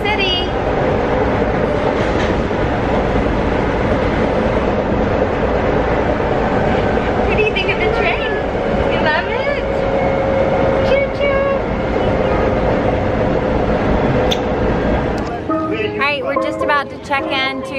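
Steady low rumble and rattle of a moving train carriage heard from inside, headed into New York City, with continuous rolling noise and occasional clanks, voices faintly mixed in.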